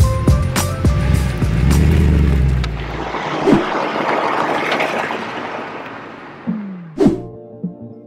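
A Mercedes C63's engine rumbles deeply at first, then gives way to a broad rushing roar as the car gets underway, followed by a couple of dull thunks, heard from inside the cabin.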